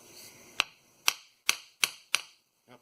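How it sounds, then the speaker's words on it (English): A hammer taps the inner CV axle shaft of a 2015 Chrysler Town & Country, five sharp metallic strikes about half a second apart, then a softer final knock, close and alone. "I'll just try to tap that with a hammer just a little bit."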